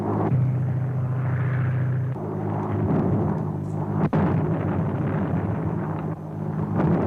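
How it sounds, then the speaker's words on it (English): Tear gas bombs burst in an old film serial as a low rumbling blast with crackling hiss, one sharp thud partway through, heard alone over a steady dated soundtrack rumble. "Landing tear gas bombs all around them, but they don't seem to have any effect."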